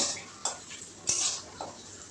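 Metal utensil scraping and clinking against a pan as thick taro leaf paste is lifted out, a few sharp scrapes at irregular intervals, close and fairly quiet.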